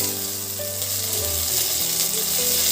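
Curry leaves hitting hot oil in a pan while cooking an Assamese local chicken curry, giving a steady loud sizzle and crackle throughout with faint stirring clatter.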